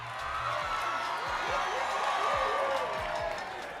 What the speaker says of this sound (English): Incredible crowd here tonight.